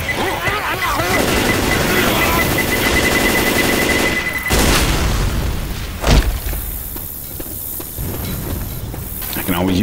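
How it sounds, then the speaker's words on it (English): A Left 4 Dead 2 pipe bomb gives a loud continuous roar of gunfire and a rising beeping tone, then a heavy blast at the midpoint and a second thud, all over a dense, noisy game mix. "Pipe bomb! Look out!"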